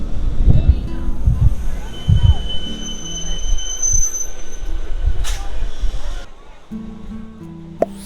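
A local EMU train on the Howrah–Digha line runs near a halt, its wheels squealing in rough, grinding bursts with low rumble throughout and a sharper high squeal near the middle before it quiets.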